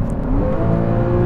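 A car engine revs high and pulls through a gear change, heard from inside the cabin as a brief, loud, rising drone with no talking.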